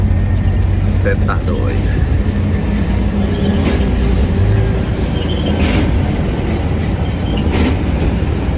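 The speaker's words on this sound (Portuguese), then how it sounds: "Olha os trem de ferro aí, dá rumo." A train rumbles past with steady low clatter and a few sharp squeals, loud and close, with voices faintly mixed into the noise.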